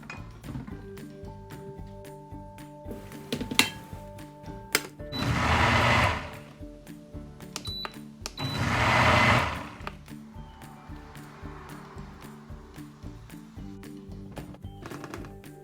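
A blender whirs in two short bursts of a few seconds each, with quieter clinking and kitchen noise around them.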